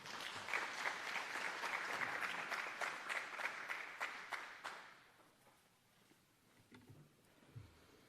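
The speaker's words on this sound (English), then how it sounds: "Please give her another round of applause." Audience applause at a youth awards ceremony, dense steady clapping for about five seconds that then tapers off into a quiet room with a few faint scattered noises.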